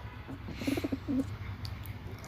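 A pigeon sitting on wires utters a short series of low, muffled coos midway through, faint against a quiet outdoor background.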